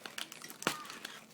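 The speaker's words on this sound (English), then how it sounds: "Cutting a slit in that plastic bag to allow the air to escape." Scissors slice a short slit in a plastic bag inside a box of food for storage, one sharp crinkling snip amid faint rustling of the plastic, close and quiet.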